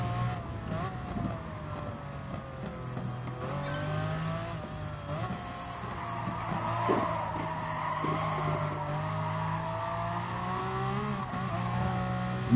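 A car lapping Spa in a racing video game hums with a steady engine drone that rises and falls through gear changes and corners, with faint tire noise and some talk underneath.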